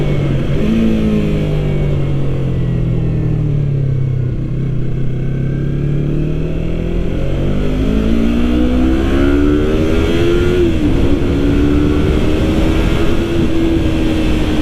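A 2020 Yamaha YZF-R3 motorcycle riding on a highway, its engine droning loud and steady with rising and falling pitch as it shifts and accelerates, wind rushing throughout.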